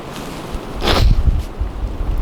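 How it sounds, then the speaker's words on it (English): Strong, cold wind gusts through the woods during a late-season deer hunt, a steady rushing roar with a louder swell in the middle, close to the microphone and with no talking. "This wind's blowing everything around."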